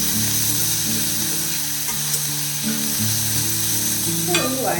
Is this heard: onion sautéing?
yes